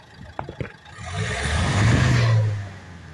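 A few clicks and knocks, then a Nissan Qashqai+2 engine revs up with rising exhaust roar, holds briefly, and settles back down.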